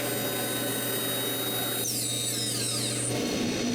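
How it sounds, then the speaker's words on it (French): A wood router fitted with a screw-groove bit cuts grooves into wood, giving a steady, close, high-pitched whine that shifts in pitch partway through before the motor winds down. "change la fraise pour une qui fait des rainures de vis, j'ajuste la hauteur et c'est parti pour les rainures"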